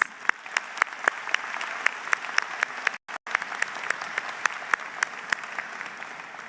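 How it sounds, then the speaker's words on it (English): Steady applause fills a graduation convocation hall, a dense patter of many hands clapping continuously, dipping briefly to near silence midway before resuming at the same level. "Round of applause"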